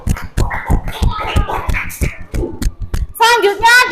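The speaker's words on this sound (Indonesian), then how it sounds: "Ayo kita beri tepuk tangan untuk kita semua." A classroom of children claps together in a burst of rapid, uneven applause, close and loud, fading briefly before children's excited voices and shouts rise at the end.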